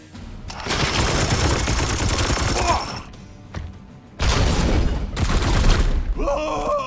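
Support fire in the video game Chaos Gate - Daemonhunters, two long sustained volleys of rapid gunfire and impacts separated by a brief lull, loud and close, with a voice briefly heard.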